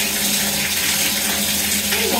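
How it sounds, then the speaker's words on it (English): Hot water gushes steadily from the tap of a solar water heater filling an off-grid bath, a continuous close rushing stream. "So going to turn on the water because it comes piping out hot."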